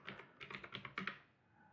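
Fingers type a passphrase on a computer keyboard at a Linux disk-encryption boot prompt, a quick close run of about a dozen crisp key clicks in uneven bursts, then a short quiet tail.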